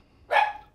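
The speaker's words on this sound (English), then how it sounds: "What are you barking at again" A dog in a home garage lets out one short, loud bark that fades quickly, with no other sound around it.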